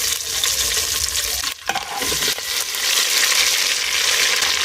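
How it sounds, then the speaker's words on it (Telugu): Tomatoes, onions and green chillies frying together in oil in a home kitchen, with a loud, continuous close sizzle and a brief dip near the middle as the pan is stirred, then a full crackle again. "టమోటా, ఎర్రగడ్డ, పచ్చిమిరపకాయలు అన్నీ ఒకేసారి వేసి వేయించుకోవాలన్నమాట."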